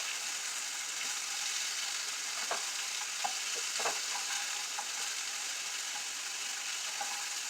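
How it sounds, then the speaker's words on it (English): Orange chicken frying in a pan, a dense, even hiss of sizzling oil throughout with a few soft utensil knocks, moderately quiet and close, no voices. "I'm going to let this fry just a bit and cook down"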